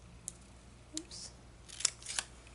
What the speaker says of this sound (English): I'm just taking scissors, just kind of eyeballing it and trimming it down